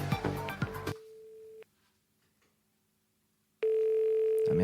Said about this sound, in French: nous allons appeler ce numéro dans l'espoir de sortir enfin de ce statut de bénévole alcoolique